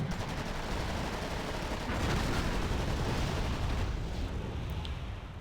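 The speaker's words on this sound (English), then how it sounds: "Tow launcher already firing." Missile launches and gunfire from a TOW launcher in the battlefield game Wargame AirLand Battle, a dense continuous barrage of explosive bursts and rumbling fire at steady loudness throughout.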